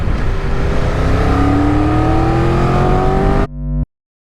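A 2022 Triumph Tiger 1200 motorcycle engine revs loudly and steadily up close, pitch climbing smoothly, then cuts off abruptly.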